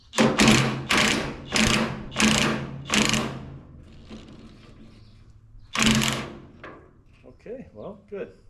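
Power tool driving small bolts on an Oliver corn picker, five short loud close bursts in quick rhythm, a pause, then one more burst, followed by faint voices talking.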